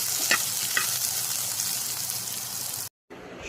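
Taki fish frying in oil with green chilies, a steady bright sizzle with a couple of faint pops, close and continuous before cutting off abruptly near the end.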